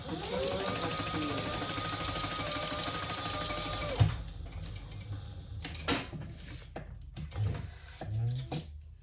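Sewing machine top stitching a small crossbody bag, running in a steady continuous whir for about four seconds, then stopping, followed by scattered handling clicks and rustles of fabric.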